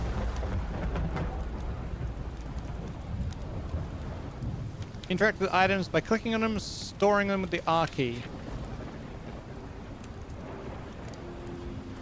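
Steady rain hiss with low rolling thunder fills a video game scene, continuing beneath a voice reading out control instructions.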